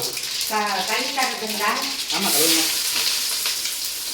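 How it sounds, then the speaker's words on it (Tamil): Mustard seeds crackle and sizzle in hot oil at the start of a home-style chicken dish, a steady spitting hiss running beneath a person talking nearby. "அவரோட சிக்கன் ரெசிபி கடுகு போட்டாச்சு."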